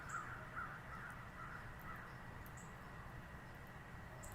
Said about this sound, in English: Yeah, they're so beautiful, the birds are.